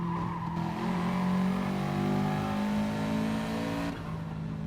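A Subaru GT4 race car in a sim racing game, its engine droning loud and close with rising and falling revs, then a brief release as the throttle lifts.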